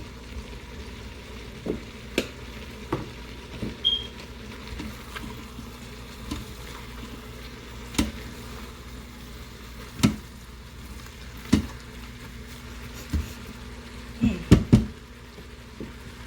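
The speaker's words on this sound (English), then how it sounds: "we are going to cook this until there's no more pink showing in the meat" Ground meat with onion and pepper frying in a pan, a steady low sizzle with occasional sharper pops and spatters, heard alone without any talk.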